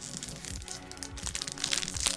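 Toy collectible packaging with exclusive trading cards is torn and crushed open, giving a dense run of crinkling, crunching and ripping that builds louder toward the end, close by with no talk.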